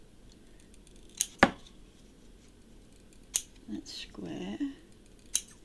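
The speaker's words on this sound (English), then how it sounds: "we're going to snip off" Scissors snip paper while trimming a writing pad folio along score lines, several sharp separate cuts with a speaking voice over them.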